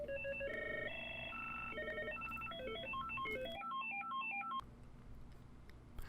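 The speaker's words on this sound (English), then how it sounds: "Highlight a ringtone and press the Save Soft key to save and begin using that ringtone" A Mitel 6869 desk phone plays short electronic ringtone melodies one after another, each a quick run of beeping tones, some higher and faster than others.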